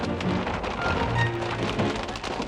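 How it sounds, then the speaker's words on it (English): Heavy rain and hail pound down steadily during a storm chase with tornadoes nearby, a dense, loud, continuous roar of drops and impacts with a few faint distant rumbles underneath. "The rain and hail pick up again."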